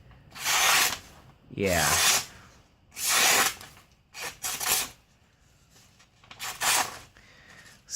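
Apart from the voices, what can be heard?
thick chisel-ground XHD-7 knife cutting through paper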